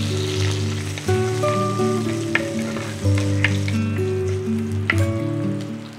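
Crushed garlic sizzling in hot oil for a rasam tempering with dried red chillies and curry leaves, a loud steady crackle with scattered pops and a few stirring clinks.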